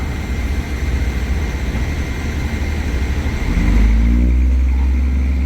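Thai special express train pulling out of Ban Pong station on the southern line, a steady loud low rumble that swells into a heavier, deeper engine drone partway through as it gets moving.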